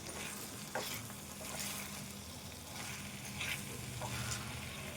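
Potatoes frying in a pan give a steady, soft sizzle while a spoon stirs them, making occasional scrapes and light knocks, with no talking.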